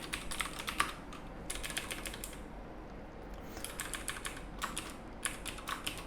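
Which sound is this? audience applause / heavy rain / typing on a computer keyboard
typing on a computer keyboard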